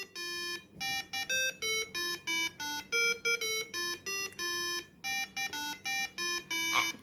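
Piezo buzzer on an Arduino board beeping out the Happy Birthday tune, a string of clean electronic tones with short gaps between notes, clear and alone with no voice.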